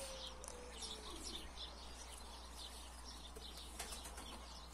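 A pigeon flaps its wings in flight outdoors, faint repeated flutters with a few soft chirps over steady background hum.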